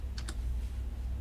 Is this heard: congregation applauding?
no